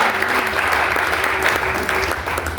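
A church congregation bursts into dense, continuous applause mixed with ululation, a loud crowd sound that fills the whole short moment without speech.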